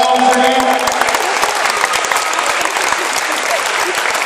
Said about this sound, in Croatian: Veliki aplauz za njih.